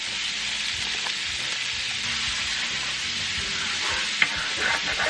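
Butter, onions and minced garlic sizzle and fry steadily in a pan over medium heat, a continuous close hiss with light stirring scrapes and one sharp clink near the end.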